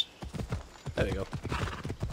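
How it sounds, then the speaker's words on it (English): Horse hooves clip-clop in a quick, uneven rhythm while riding in Assassin's Creed Odyssey, fairly loud and close, with a horse's neigh rising in the middle. "I'm on horse."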